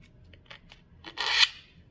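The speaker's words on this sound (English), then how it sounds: "We're gonna use my scissors." Scissors run along a cardstock or paper ribbon strip to curl it, a short rasping scrape building to one louder drawn-out stroke after a few faint ticks, close and alone.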